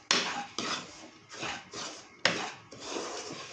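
Semolina stirred while dry-roasting in a pan over very low heat for laddu, giving repeated scraping and rubbing strokes of a spoon against the pan, close and steady, with no talking.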